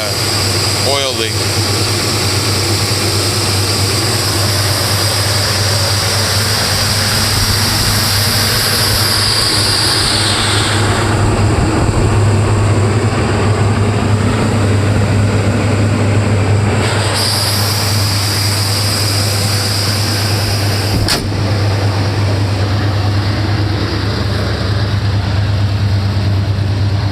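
A 1979 Chevrolet C10 pickup with coolant or oil leaks runs steadily nearby, a constant low engine drone with a brief swell in the middle as the engine picks up, and talk over it.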